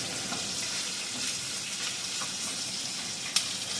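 Bacon frying in a pan over medium-high heat gives a steady, bright sizzle that carries evenly throughout, with one sharp pop near the end and no talking.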